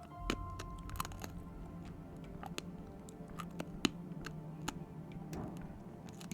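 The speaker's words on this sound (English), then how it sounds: "Sorry for the crunching noises." Close, crisp crunching of food being chewed, a steady run of small sharp bites and clicks over a low background hum, with no talk.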